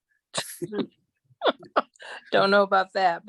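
A single sharp sneeze comes close to the microphone during an online gathering, followed by people talking.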